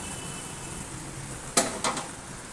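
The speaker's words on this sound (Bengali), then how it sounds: "চলো কাজু কিশমিশ দিয়ে দিলাম এবারে দিয়ে দেবো ডেচকির মধ্যে ঢেলে দেবো" Cashews and raisins poured into hot ghee in a cooking pot: a low, steady sizzle broken by two short, bright splashing rattles in quick succession near the end.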